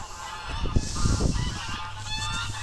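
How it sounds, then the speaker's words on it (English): Geese just out of a barn honk together in a loud, close flurry of overlapping calls that peaks early and then settles into scattered honks, with no speech. "Those geese just came out of the barn."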